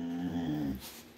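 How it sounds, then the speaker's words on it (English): A dog crying and whimpering: one drawn-out, wavering whine with a throaty, growl-like edge, close and fairly loud, trailing off into quiet. "you're going to have to listen to a crying dog now"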